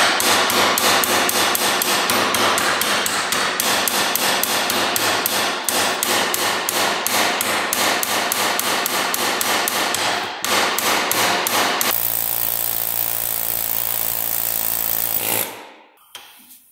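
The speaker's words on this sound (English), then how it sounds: "A couple more hits with the hammer," Loud, rapid metal-on-metal hammer blows pound a stuck bolt out of a Yamaha YFZ 450 ATV, striking in a fast steady rhythm close up, then giving way to a sustained ringing clatter before stopping.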